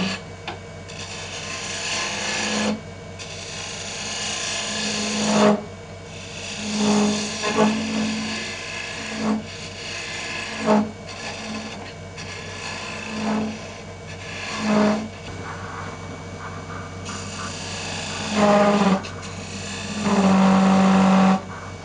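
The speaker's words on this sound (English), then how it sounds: "I'm just going to use a bowl gouge to get the majority of it out, and I'll use a scraper." A bowl gouge hollows a wooden train whistle spinning on a lathe, cutting slowly far from the headstock. Rough scraping cuts come in repeated close bursts with short gaps over a low motor hum.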